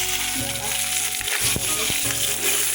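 Boiled eggs fry in a pan with a loud, constant sizzle and hiss, marked by a few close scraping and knocking strokes from a spatula.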